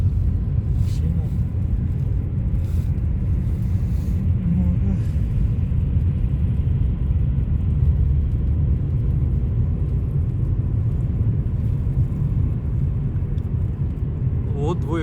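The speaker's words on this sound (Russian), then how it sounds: "Машина." A car rumbles past with a steady low engine drone that holds across the whole stretch, moderately close, with faint speech in the background.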